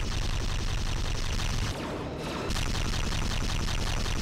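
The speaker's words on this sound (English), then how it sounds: "that is a lot of torpedoes" Continuous rapid torpedo and weapons fire in a Star Trek starship battle video game, loud dense volleys with a short lull midway before the barrage resumes.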